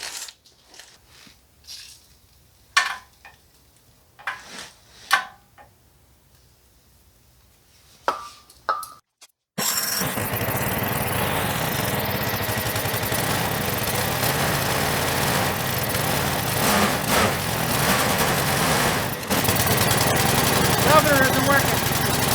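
An old generator engine with a faulty governor starts after several short cranking bursts and settles into a loud, rough, uneven run that surges in speed.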